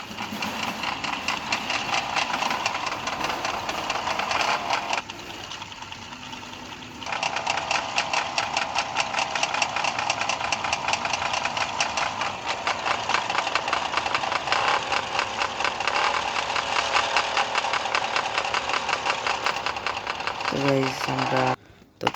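Motorbike engine in the video game GTA 5, a steady buzzing, rapidly pulsing engine drone that drops briefly to a quieter idle before resuming, with a short different engine burst near the end.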